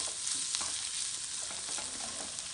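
Ginger garlic paste fries in a pan for a Kerala beef masala, a loud, constant close sizzle with soft stirring scrapes running through it.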